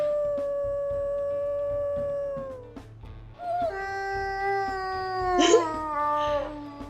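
Wolf howls in the WolfQuest video game, long sustained tonal cries that hold steady, then fall away before a second, rising layered howl with overlapping voices and a sharp bend near the end.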